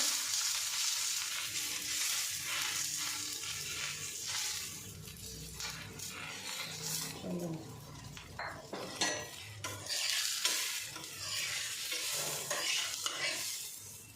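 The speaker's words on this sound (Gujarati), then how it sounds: "તો પરોઠું શેકાય છે" Aloo paratha roasting in oil on a griddle, with continuous sizzling and frying, scraping and stirring of a utensil, and occasional clinks of metal cookware, all close-up and without talk.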